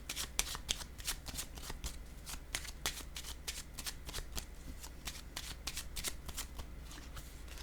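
Tarot cards shuffled by hand, a quick run of crisp riffling flutters and soft slaps repeating steadily throughout, close and clear with no talking.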